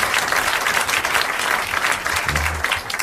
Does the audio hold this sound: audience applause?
yes